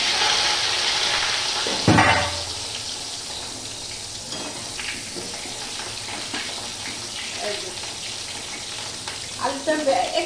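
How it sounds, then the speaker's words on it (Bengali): Potatoes hit hot oil in a wok with a sudden burst, then settle into a quieter, continuous bubbling sizzle, with a few clinks and scrapes near the end. "এই যে তেলের মধ্যে আলু ছেড়ে দিলাম, আলুগুলো ভেজে নেব।"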